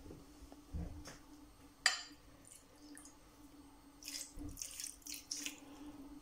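Water is added to a spiced fish roll filling of onion, ginger, garlic and seasonings, heard as a faint splash and trickle with a few drips and soft clinks in a quiet kitchen.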